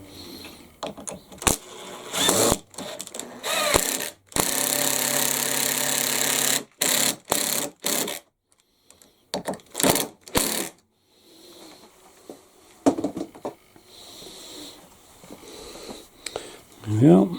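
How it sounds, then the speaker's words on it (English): An impact driver driving screws into pre-drilled wood for a small bird feeder: loud, close bursts of rapid mechanical hammering, one held for about two seconds, separated by pauses with a voice speaking. "just using the impact driver today."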